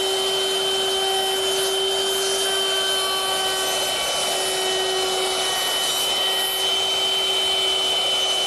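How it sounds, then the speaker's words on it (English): Router fitted with a 1/4-inch round-over bit easing the edges of a wooden seat, a loud steady high-pitched whine running close and continuous throughout, with no voices. "So that 1/4-inch rounding over bit does a nice job at easing all the edges on the seat."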